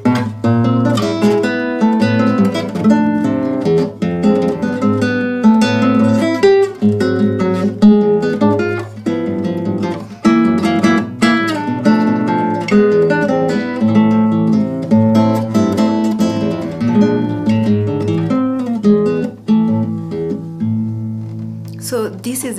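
Bambuco piece played as melody and bass together, likely on a plucked string instrument, with a lively rhythmic flow of picked notes and a steady low line, close and continuous.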